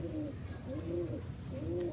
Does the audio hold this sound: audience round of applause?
no